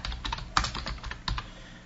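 Clicky keystrokes on a computer keyboard while entering text into HTML code, an irregular run of close, crisp taps with a few harder strikes, no talking.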